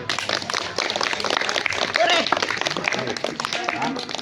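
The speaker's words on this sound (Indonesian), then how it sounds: "Tepuk tangan kita semuanya." Students clap together at the close of a differentiated sprint running lesson, a dense, steady patter of hands that carries on for several seconds with voices mixed in.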